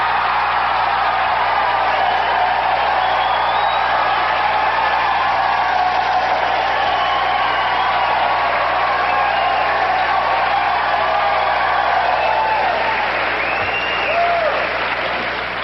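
Late-night television studio audience applauding loudly, a continuous roar of clapping with scattered whoops and cheers, sustained at full volume for about fifteen seconds before easing slightly at the end.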